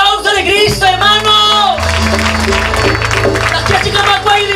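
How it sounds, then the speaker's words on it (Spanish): A crowd applauds and cheers with shouts and whoops, loud and close, over a low, steady musical backing. "un aplauso de Cristo, hermano"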